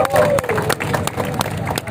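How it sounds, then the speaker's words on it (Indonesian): Applause and crowd noise from spectators honoring the top 32 finishers of the Jakarta Governor's Cup 2022 kite-fighting tournament, loud and close, mixed with babble and voices. "Kita beri tepuk tangan yang paling meriah buat 32 besar turnamen layangan aduan Piala Gubernur DKI Jakarta"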